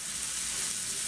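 Steady, bright sizzle of steak searing in a cast iron skillet, a continuous close hiss with no break and no voices.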